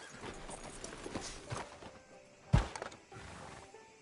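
Horse hooves clop along at a walking pace in Red Dead Redemption 2, with a sharper thump partway through and faint ambient tones in the background; no talking.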